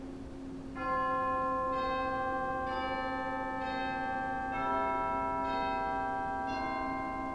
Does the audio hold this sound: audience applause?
no